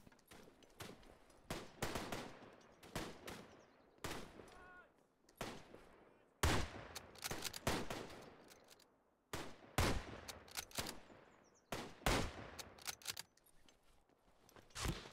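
Mosin rifle shots ring out in the World War I shooter Tannenberg, sharp cracks fired in irregular bursts with gaps between them, some loud and near, others quieter, over a faint battlefield background.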